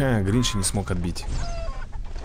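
Cartoonish hen clucks and squawks from the video game What The Hen sound in quick bursts early on, mixed with someone talking over the game audio.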